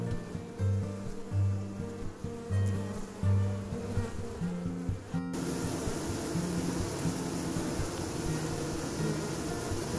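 Honeybees crowd the hive entrances on a sunny day, fanning and carrying in pollen, with a dense, continuous buzzing close by that swells louder partway through.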